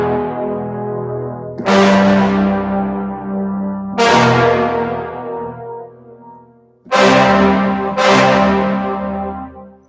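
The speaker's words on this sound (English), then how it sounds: "So here we recorded five dynamic layers of the sforzande," Four sharp-attack brass sforzando hits from a sample library ensemble, each swelling loud then decaying with a long reverberant tail, spaced irregularly with no talking.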